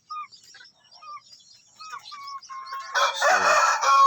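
A native chicken rooster crows loudly and nearby, its harsh cock-a-doodle-doo rising at the end after a spell of scattered chirps and calls from other birds in the background.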